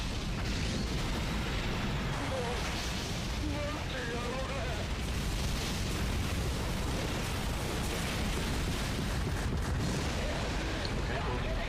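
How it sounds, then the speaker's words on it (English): Buildings being blown up in a Godzilla video game, with a constant thick rumble of explosions and debris and speech faintly mixed in throughout. "Trying to blow up the rest of these fucking buildings"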